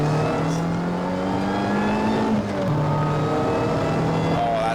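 A supercharged Lotus Elise Cup 250 fitted with an RRR Engineering intake kit pulls hard along an open road at the top of Winnats Pass, its engine drone rising steadily with a brief dip as it shifts, loud and close throughout.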